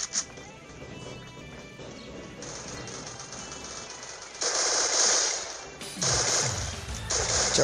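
Gunfire in the mobile battle game Free Fire: rapid bursts of shots and loud single blasts stacked into dense volleys over a low game soundtrack.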